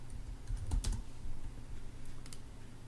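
Typing on a computer keyboard while entering sheet notes into a 2015 layout template, a short burst of soft clicks over a steady low hum, close and fairly quiet with no talking.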